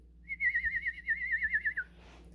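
A bird call sounds as one clear, warbling whistled trill lasting about a second and a half. It is fairly loud and alone against a quiet background, then trails off.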